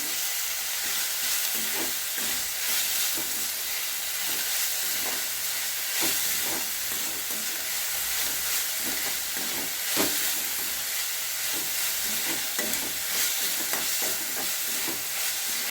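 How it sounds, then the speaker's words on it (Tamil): Chicken is sautéed with onion and ginger-garlic paste in a pan for chicken samosa filling, giving a steady, close, hissing sizzle throughout. Frequent spoon scrapes and stirring clicks break through the sizzle. "சிக்கன் போட்டு கொஞ்சம் நல்லா வதக்கிக்கிறோம்"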